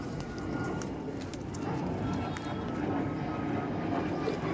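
Rampuri pigeons in a loft give soft, continuous cooing over a steady broadband hum of background noise, with no clear voices.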